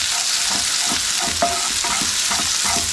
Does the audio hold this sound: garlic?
yes